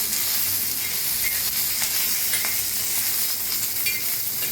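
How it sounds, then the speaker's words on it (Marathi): Green chilies and cumin seeds roasting in oil in a pan, a dense steady crackling sizzle with occasional stirring scrapes, close and moderately loud throughout. "ह्याच्यातच टाकूया एक चमचा जिरं छान असं मिक्स करून भाजून घेऊया"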